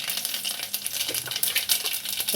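Mustard seeds added to a hot pan for egg gravy crackle and pop continuously, a dense, bright sizzle of rapid tiny bursts close by.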